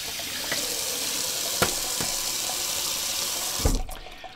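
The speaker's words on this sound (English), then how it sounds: "Let me just rinse it off real quick and I'll show you." Tap water runs steadily into a bathroom sink while a synthetic tuxedo shaving brush with a 24 mm knot is rinsed, a continuous close hiss with a couple of brief splashes and clunks near the end.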